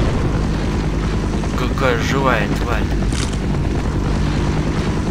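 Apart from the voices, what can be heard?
helicopter in video game Half-Life mod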